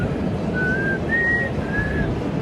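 Three short whistled notes, each a thin steady tone with gaps between, over a low background rumble.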